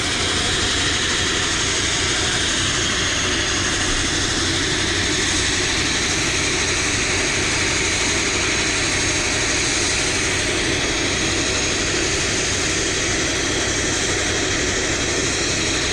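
Aircraft engines drone at an airstrip, a constant, loud, broad roar that holds steady throughout with no talk.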